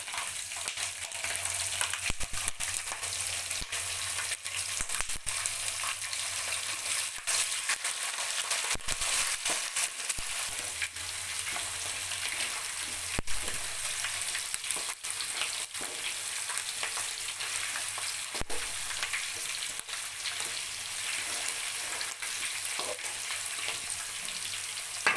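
Green chillies frying in oil with peanuts and urad dal for gongura pulihora, a loud, continuous close sizzle with occasional scraping stirs throughout.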